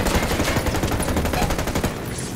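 Dense rapid gunfire in Ghost Recon Wildlands co-op combat on extreme difficulty, loud sustained automatic bursts overlapping with scattered shots, fairly close and continuous throughout.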